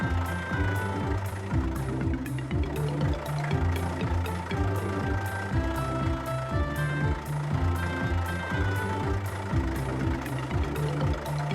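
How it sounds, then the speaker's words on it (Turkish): A cartoon construction truck carrying blocks and building debris drives along a play track, heard as rhythmic mechanical clanking and engine chugging under steady musical tones. The sound is bright and busy, with no voices in it. "Vay, bu kocaman bir kamyon."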